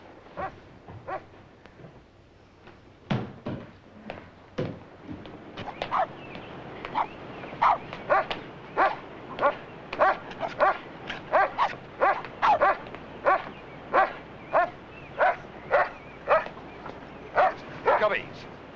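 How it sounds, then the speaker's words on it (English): Frightened dogs bark and yip again and again, starting sparse and building to a rapid, steady string of sharp yaps, fairly close, with voices of people talking mixed in. "Oh, listen, the dogs are mad at me."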